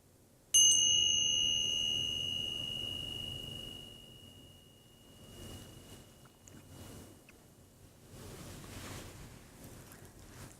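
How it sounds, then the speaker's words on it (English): A meditation chime is struck once with a sharp, bright ring and then left to decay slowly for several seconds, fading into quiet room noise with faint wind-like rumble. "I'm going to ring the chime and just listen to it as long as you can"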